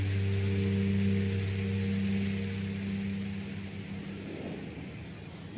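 Steady rain patter in Minecraft: Story Mode fills the scene with a low, constant hum beneath it, continuous and even throughout.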